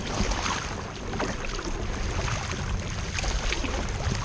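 A kayak paddle makes draw strokes through the water, a steady wash of splashing and swishing water close by, mixed with wind noise on the microphone.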